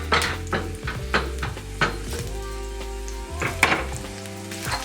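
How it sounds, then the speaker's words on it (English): Onion and garlic frying in hot oil at the start of a cayenne pepper hot sauce, a soft sizzle broken by several sharp utensil clinks and scrapes on the pot, close by with no speech. "let's add our onion and our garlic in there and let that start getting fragrant."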